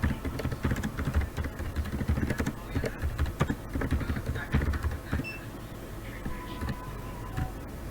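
Quick, irregular keystrokes clatter on a computer keyboard, close and moderately loud, with a faint low hum behind them.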